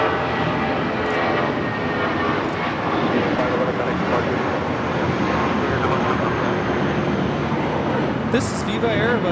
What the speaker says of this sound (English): This is Viva Airbus 511 taking off to Guadalajara on the A320.